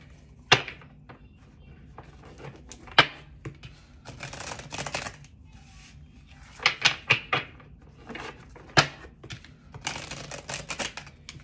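Tarot cards handled and shuffled close by in a quiet room: repeated crisp riffles and soft slaps in irregular bursts, with a few sharper taps as the deck is squared.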